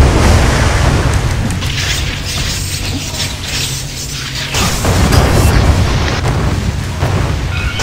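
Deep cannon booms pound through a castle siege in the ArcheAge online game, heavy and loud over a continuous roar of battle clatter and mechanical noise, with bursts swelling again near the end.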